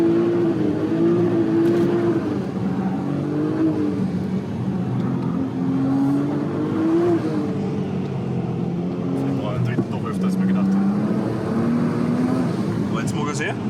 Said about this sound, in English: this is RS4 B5 with an insane exhaust against the snow